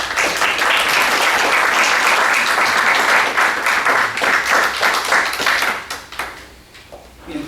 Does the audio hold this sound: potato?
no